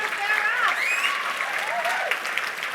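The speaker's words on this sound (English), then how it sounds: "Give her a round of applause." Audience applause fills a sales-skills seminar hall in Nashville, a steady, loud wash of clapping that holds for the whole stretch, with some whistling over it.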